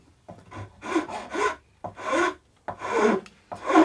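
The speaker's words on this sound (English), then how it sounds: "I've got now the Iwasaki rasp here" An Iwasaki rasp shapes guitar wood in a series of separate rasping strokes, about eight close, loud scrapes in uneven bursts with short pauses between, with no talking.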